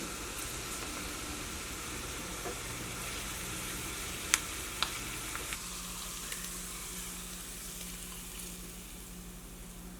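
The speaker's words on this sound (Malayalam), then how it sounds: "നമ്മുടെ വെളിച്ചെണ്ണ നന്നായിട്ട് ചൂടായിട്ടുണ്ട്. ഇതിലേക്ക് നമുക്ക് ഉള്ളി ചേർക്കാം." Onion added to well-heated coconut oil, with chicken liver and gizzard cooking in the same pan, sizzling and frying steadily and close up, with a few sharp pops and clicks along the way.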